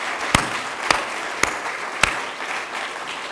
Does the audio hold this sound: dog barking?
no